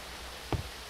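A gas trap in Minecraft Eternal puffs twice, soft and faint, over a low hiss with no one talking.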